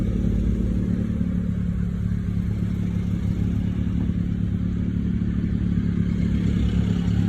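A Honda Jazz engine runs steadily nearby. Its even, continuous hum shows no clear rise or fall in revs.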